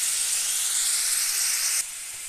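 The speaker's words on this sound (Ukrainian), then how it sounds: "додаю моркву, 2-3 морквинки, це за бажанням, і обсмажую все" Onion and carrots fry in a multicooker bowl, giving a steady, loud close hiss of sizzling that drops abruptly to a quieter level near the end.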